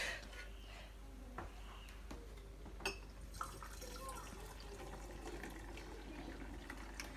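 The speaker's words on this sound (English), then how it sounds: "I'm going to pour that into some bottles" Home-brewed kombucha pours into bottles with a continuous soft trickle and splash, broken by occasional drips and light clinks, close and fairly quiet.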